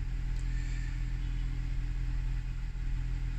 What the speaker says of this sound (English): Let me start the vehicle.